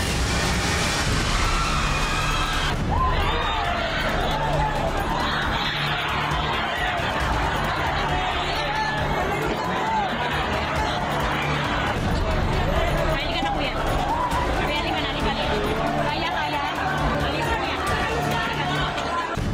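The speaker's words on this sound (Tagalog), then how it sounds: "Napalitan ng malalakas na sigawan." Crowd noise fills a church in Bulacan during Ash Wednesday Mass as the second floor collapses, with a dense, steady wash of many voices shouting and clamoring at close range throughout, and no pause in the commotion.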